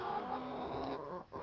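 Chubbz, a rooster, gives soft clucking calls at close range, fairly faint and brief, with a short higher note near the start.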